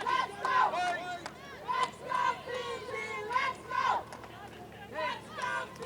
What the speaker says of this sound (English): Crowd getting behind the underdogs here, chanting for Fiji Bulikula